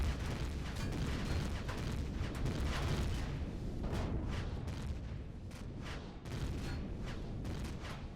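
Multiple turrets firing during a tank fight against Zirax in Empyrion Galactic Survival, heard as a continuous loud barrage of booming shots and rumbling impacts layered into a dense, steady wall of combat noise.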